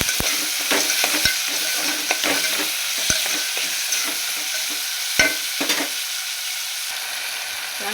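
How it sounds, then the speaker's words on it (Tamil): Tomatoes and onions stir-frying in oil for a fish curry, with a constant close sizzle and frequent sharp ladle scrapes and taps against the pan, no voices. "தக்காளி நல்லா வதக்கிக்கணும்."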